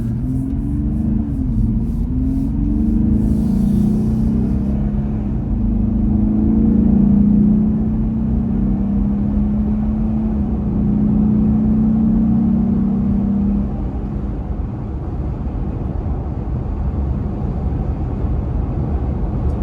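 A Jeep Gladiator cruises with a low, steady exhaust drone and road rumble, a brief swell in pitch midway before easing off into an even hum, heard alone without talk.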